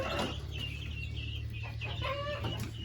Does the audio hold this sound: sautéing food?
no